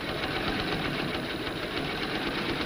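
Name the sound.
sewing machine top stitching a bodice seam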